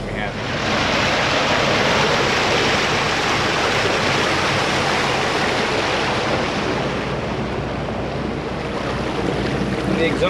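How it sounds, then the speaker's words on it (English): An old mechanical diesel boat engine running with its exhaust under the water, heard as a loud, continuous rushing wash of water and engine rumble mixed with wind, steady for the whole stretch. "And the exhausts are under the water."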